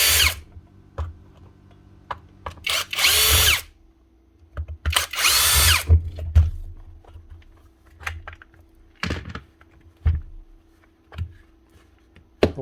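A power drill backs out the handle screws on a Metabo KHE 5-40 rotary hammer, with two loud whirring bursts of a few seconds each amid quiet clicks and handling noises close by.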